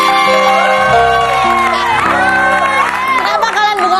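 Studio audience at an Indonesian television talk show breaking into loud applause mixed with cheers and whoops, a dense crowd sound that holds for several seconds with music-like tones over it.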